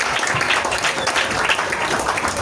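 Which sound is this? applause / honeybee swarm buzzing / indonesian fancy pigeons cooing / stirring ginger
applause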